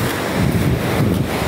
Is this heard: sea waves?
yes